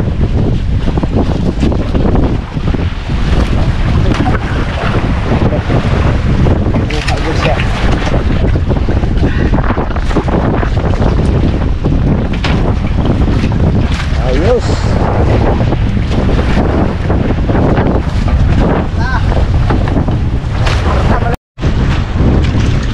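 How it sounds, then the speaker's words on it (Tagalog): On a small fishing boat at sea, strong wind and waves make constant heavy buffeting and roaring. Wind hits the microphone hard throughout, and someone speaks briefly underneath. "lakas pa rin yung alon mga bre, tsaka hangin"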